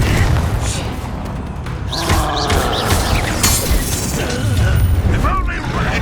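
A Confringo fire-blast spell explodes in Hogwarts Legacy combat, a booming burst over a dense, continuous bed of game sound effects and music, with mechanical clatter and a steady loud level throughout.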